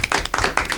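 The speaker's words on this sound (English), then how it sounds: "everybody. Clap it up." Audience clapping at a podcast recording, heard in three short bursts of hand claps spread across less than a second, fairly loud and close.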